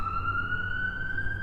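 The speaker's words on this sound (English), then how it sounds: "sirens blaring" A loud wailing siren holding a steady high tone, nearby and continuous, with a low engine rumble beneath it and no talking.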